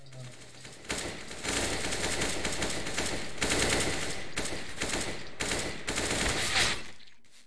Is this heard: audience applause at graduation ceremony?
no